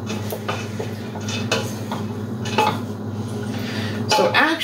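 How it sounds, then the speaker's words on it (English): A spoon scrapes and clinks against a cooking pot as vegetables are stirred into soup, a steady run of close scraping and knocks over a low kitchen hum, with no talk. "we're going to stir those in"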